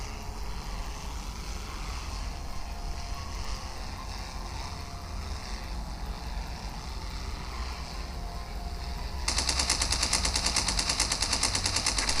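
Rapid machine gun fire from a fighter plane in the video game Wings of Steel, a dense rattling burst over a constant engine drone, growing louder and harsher toward the end.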